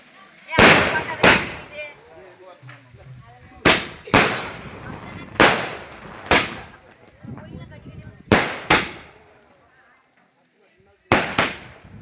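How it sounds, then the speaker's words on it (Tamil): Fireworks and firecrackers burst at a night temple festival, with about nine sharp, loud explosive bangs, some in quick pairs, echoing through the gaps between them as people talk in the background. "வான வேடிக்கை பட்டாசுகளும் வெடிக்கப்பட்டது"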